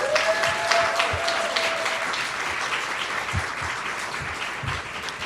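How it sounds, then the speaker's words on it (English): A crowd applauds steadily at a Brockton High School senior awards ceremony, a dense, sustained wash of clapping that fills the room for several seconds without pause. "can we give your parents and family members a round of applause?"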